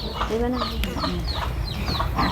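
Chickens cluck around a rural Thai farmhouse in a series of short, repeated calls at moderate distance, over a steady low background hum.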